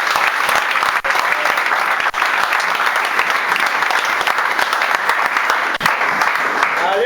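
A church congregation claps in loud, sustained applause that fills the whole stretch, dense and even, with a voice briefly audible beneath it.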